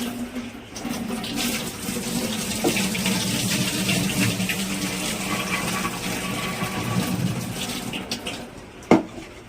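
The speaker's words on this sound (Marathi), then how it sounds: "अर्धा किलो तांदूळ आपण भिजत घातलेले आता परत एकदा ते धुवून टाकत आहे" Soaked rice is rinsed with running water, a steady gushing pour from a tap into a vessel that swishes on for several seconds and ends with a short knock.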